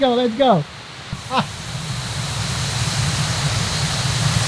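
A rushing waterfall roars as a steady broadband wash of water noise, loud and close, with a voice calling out briefly over it at the start.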